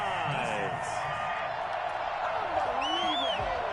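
A home crowd in the Madden 21 football video game roars and whoops after a call, a broad steady cheer filling the background under continuous commentary.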